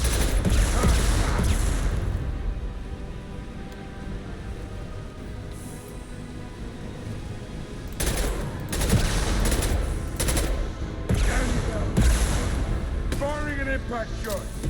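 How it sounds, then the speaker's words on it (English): Gunfire and an impact shot in Mass Effect 2 Legendary Edition, bursts of rapid shots and booming hits in a combat mix, with intermittent talking over the battle. "Firing an impact shot."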